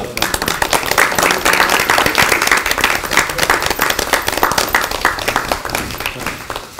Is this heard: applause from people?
yes